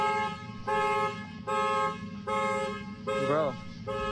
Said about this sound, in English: stop turning on my alarm